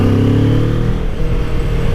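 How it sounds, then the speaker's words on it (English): A 2016 Kawasaki Ninja 650 engine revs up under throttle with a strong mid-pitched drone whose tone climbs and then settles, loud and close, with no voices. "Wow, the engine really engages."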